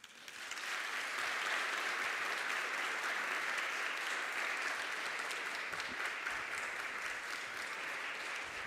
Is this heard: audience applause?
yes